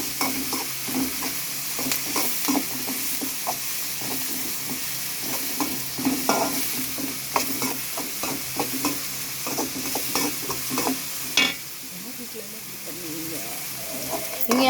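Steady scraping and tapping of a spoon stirring kothu parotta in a hot pan as curry leaves fry, with a soft sizzle underneath and a brief louder clink near the end.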